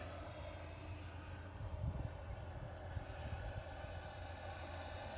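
A Hobby King Durafly Vampire 70mm electric ducted fan RC jet flies by at a distance, giving a faint, steady whooshing whine with a slight swell partway through.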